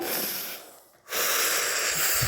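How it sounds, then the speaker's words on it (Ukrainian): A group of people breathes in through their noses in a long, airy rush, with a short pause before another breath. "Давайте всі подихаємося. Носиком дихаємо."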